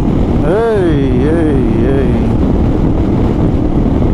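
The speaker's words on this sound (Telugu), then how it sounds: "ఏంది ఇట్లా వస్తుంది గాలి అసలు" Loud, steady wind roaring and buffeting the microphone during a motorcycle ride in Africa, rocking the bike, with a brief wavering tonal whine early on and a constant broadband rush throughout.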